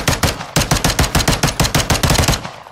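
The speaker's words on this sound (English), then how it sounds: "Watch where you are shooting!" Rapid gunfire in a video game, loud and close: a steady automatic burst of about twenty evenly spaced shots with a brief break near the start, and no talking.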